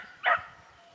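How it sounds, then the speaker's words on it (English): A single short bark from a beagle hunting rabbits alongside other dogs, brief and fairly near, standing out over a quiet outdoor background. "you can hear both dogs starting to work it here"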